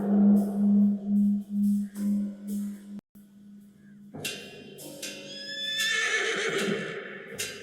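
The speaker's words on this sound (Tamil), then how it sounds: "இங்க குதிரை இருக்கு" A loud horse whinny rises and falls in several pulsing bursts in a film scene, then cuts off, followed by a softer rustling, bright passage of scene sound.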